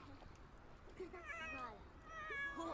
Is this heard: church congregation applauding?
no